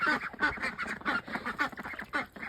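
Magpie ducklings quack over and over in a quick, steady rhythm, a busy chorus of close calls with no talking.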